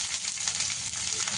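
Garlic cloves frying in hot mustard oil with black cumin and dried chilli, a steady close hiss of crackling sizzle running without a break throughout.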